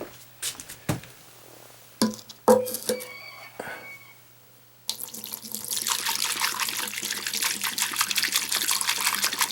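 Liquid pours steadily into the emptied metal gas tank of a 1986 Honda 200SX, a continuous gushing stream after a few earlier clanks and knocks, filling the second half of the clip.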